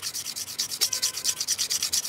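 A rusty pocket knife spring is wet-sanded with oil on 2000-grit paper, quick rhythmic back-and-forth rasping strokes about eight per second, close and steady with no voices.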